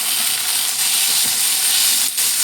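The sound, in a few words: potatoes sizzling while frying in a pan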